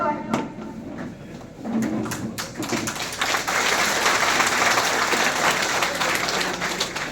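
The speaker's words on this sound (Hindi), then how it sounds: "तो तालियों की गड़गड़ाहट क्यों कम है भाई?" Applause from an audience at a Hindu political rally and seminar gathering in Itwa, with scattered claps at first that build into steady, dense clapping filling the space.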